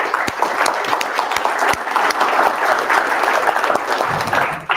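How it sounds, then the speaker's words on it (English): A roomful of people at a loan officers' business event applaud steadily for several seconds, a dense continuous clapping that stays loud throughout and tapers slightly at the end. "round of applause for Kai McBride"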